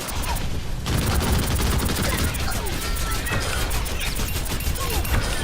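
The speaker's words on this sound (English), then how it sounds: "And then you have your micro missiles." Micro missiles fire in the Overwatch video game as a rapid, dense volley of crackling blasts that runs continuously for several seconds, loud and close over a busy game soundscape.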